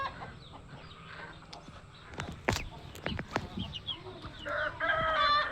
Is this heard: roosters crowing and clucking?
yes